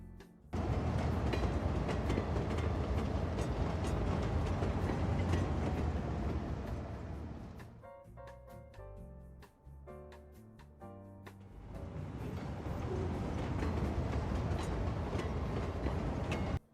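Trains running on rails in the city-building video game Cities Skylines 2, a loud continuous rumble and clatter of passing carriages that thins out midway before another train roars through, with no talk.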